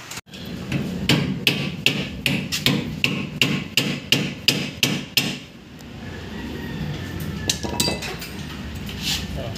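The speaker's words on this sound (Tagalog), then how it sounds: "Papaluin natin palabas para maalis natin mamaya." Repeated metal hammer blows drive out the center bolt of a Mitsubishi Mirage brake rotor disc, about a dozen sharp ringing strikes in a steady rhythm for several seconds before they stop, leaving a quieter workshop background.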